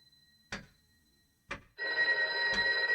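A telephone ringing in the video game Loretta, a loud sustained electric bell ring that starts partway through, preceded by two sharp knocks or clicks and with another click over the ringing.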